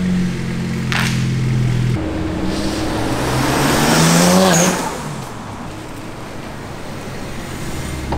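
A tuned BMW motorcycle engine rumbles and revs, its exhaust with valve open swelling louder around the middle as it pulls away, then settling into a steady drone.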